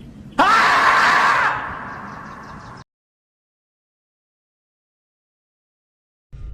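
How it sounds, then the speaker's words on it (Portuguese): A woman possessed by a supernatural force lets out a long, loud, piercing scream in a film, straining and fading over about two seconds before sudden silence. "sobe as paredes e dá um grito sinistro, acordando e deixando toda a vizinhança com medo."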